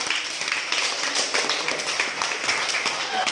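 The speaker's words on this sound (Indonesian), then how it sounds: "Oke, tepuk tangan dulu Kak." Students in a school classroom clapping their hands together, a steady, fairly loud burst of group applause with overlapping claps that lasts throughout, a voice faintly mixed in.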